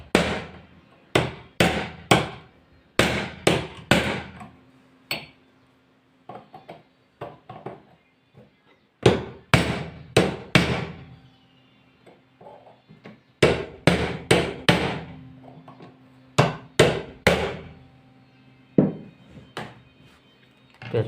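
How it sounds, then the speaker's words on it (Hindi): Sharp metal hammer strikes loosening an overtight nut on a household sewing machine whose needle has been removed, landing in quick bursts of three to five loud blows separated by short pauses, close and alone. "इसकी वजह से ठोक के खोलना पड़ रहा।"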